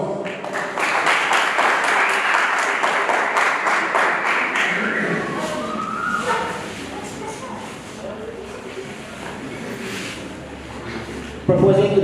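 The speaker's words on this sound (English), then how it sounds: "A round of applause." An audience at a financial literacy debate applauds for the Deputy Prime Minister, opening in a loud wash of clapping that thins and fades over several seconds, with some voices talking underneath as it dies away.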